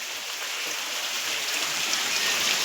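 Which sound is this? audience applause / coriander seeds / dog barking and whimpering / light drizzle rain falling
light drizzle rain falling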